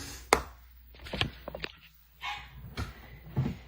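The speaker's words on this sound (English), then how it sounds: "sorry, my dog is barking." A dog barks in a series of short, sharp yips and woofs, several separate barks spaced irregularly, fairly distant and moderately loud in an indoor room.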